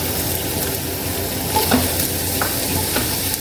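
Onion frying in oil in a pan for chicken sinigang, a steady close sizzle with stirring scrapes throughout and no talking.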